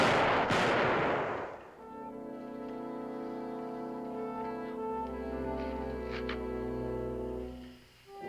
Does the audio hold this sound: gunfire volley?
yes